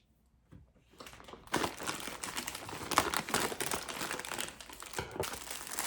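A plastic delivery package being cut open up close: a quiet start gives way to continuous crinkling and rustling of the plastic, with a few sharper snips and crackles and no talking.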